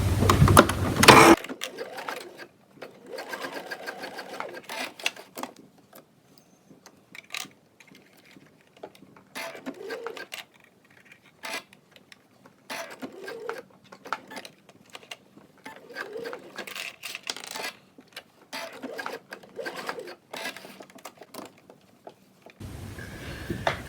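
A sewing machine stitches the pleats of a fabric face mask at a 1/4 inch seam allowance, running in several fairly quiet bursts of rapid mechanical stitching separated by short pauses, with no talking.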